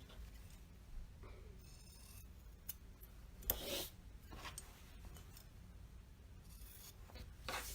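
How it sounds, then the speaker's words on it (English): Scissors snipping across the fabric corners of a shirt being sewn into a pillow, a few quiet close crisp cuts and rustles of cloth at irregular intervals. "So you just clip straight across like this."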